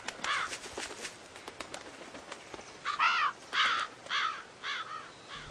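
Several loud, harsh crow caws from the video game Billy Hatcher and the Giant Egg ring out in a rhythmic series, with a busy, bright game soundscape behind them.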